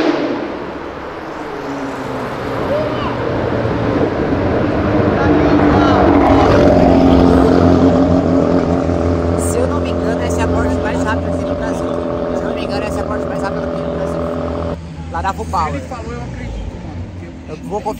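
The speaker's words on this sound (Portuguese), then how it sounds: "Nossa, a Porsche tá full power." Porsche accelerating at full power on an avenue alongside other cars, a loud sustained engine roar rising in pitch and then easing, with voices talking over it and cutting off near the end.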